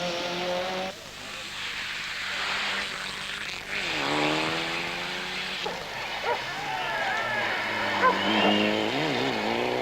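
A Mitsubishi Lancer rally car racing on a special stage at the 1996 Rally Boucles de Spa in Belgium, its engine revving hard through rising and falling gear changes with occasional tire noise, while a commentator talks over it.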